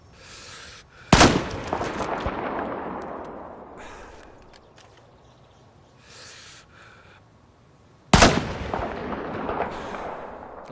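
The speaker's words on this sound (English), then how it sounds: "now with that shot you could see I shot the first time, made a bullet hole" Sniper rifle shots in Battlefield 4, two sharp, loud cracks about seven seconds apart, each followed by a long rolling echo that decays into quiet, with faint thuds in between.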